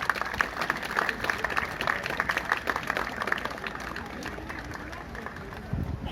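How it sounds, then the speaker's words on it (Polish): Audience applause at a ceremony opening a boulevard, steady dense clapping across the whole stretch with crowd murmur mixed in, fading slightly toward the end before a brief swell. "Proszę o klask"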